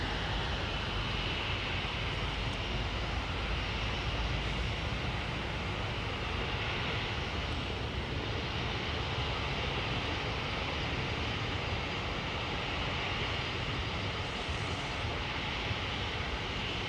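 Aircraft at London Heathrow Airport, a steady broadband jet roar filling the whole stretch, loud and continuous with no talk over it.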